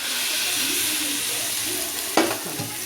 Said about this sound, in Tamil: இப்போ இதுக்கு தேவையான அளவு புளி ஊற்றுறோம் பாருங்கள்.